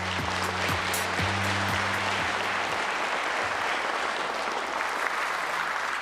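Audience at a government policy announcement breaks into sustained, dense applause that fills the room steadily from start to finish, with a few tonal notes sounding early on.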